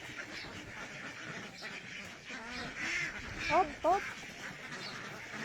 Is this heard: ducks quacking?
yes